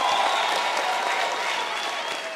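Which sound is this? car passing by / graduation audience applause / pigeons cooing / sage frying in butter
graduation audience applause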